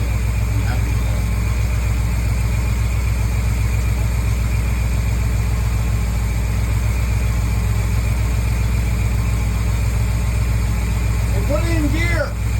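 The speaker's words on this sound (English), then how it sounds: "bring it down to idle. He's running way better." A 454 Crusader marine engine idles steadily and close by with a constant low rumble and hum, running smoothly after troubleshooting, with no clear speech over it.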